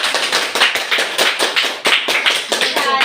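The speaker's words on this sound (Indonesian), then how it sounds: "Tepuk tangan." Classroom of students clapping hands together in a rhythmic pattern during a math lesson, loud and close, with quick repeated claps in short bursts and faint voices mixed in.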